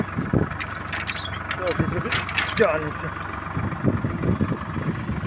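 A low, steady tractor engine rumble runs throughout during field sowing, with someone talking over it close by.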